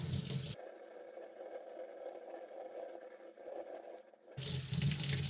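Steady running water streams from a tap for several seconds, rinsing soap off a silver quarter, a continuous hiss with no voices, louder splashing at the start and end.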